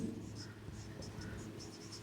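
Chalk scratching on a classroom board during a geometry lesson, a continuous dry scraping with short repeated strokes, fairly close and steady for the whole stretch with no talk.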